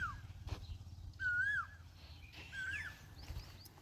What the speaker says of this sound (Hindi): देखो ये कोयल बोल रही है